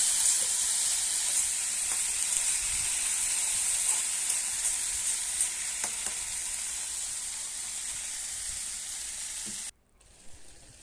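Steady loud sizzling of food frying in a pan, with occasional scraping stirs, continuing for about ten seconds before cutting off abruptly.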